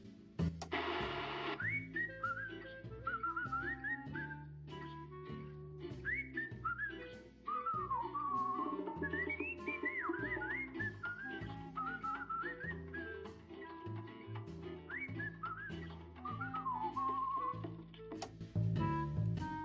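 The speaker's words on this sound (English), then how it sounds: "The good old whistle song from the Cyanide Happened to Shorts." A whistled tune plays in the Cyanide & Happiness: Freakpocalypse video game, a clear melodic whistle carrying over a soft musical backing for nearly twenty seconds, with no talking.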